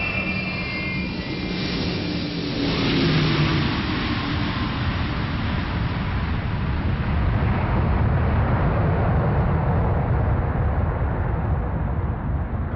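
A transport aircraft bringing horses in from Moscow, its engines roaring loudly and steadily throughout with a broad jet-like rumble and no voices.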